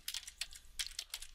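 Quick, light keystrokes on a computer keyboard, in an uneven burst of about a dozen clicks, close and fairly quiet with no talking.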